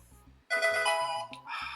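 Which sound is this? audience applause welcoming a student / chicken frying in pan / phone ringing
phone ringing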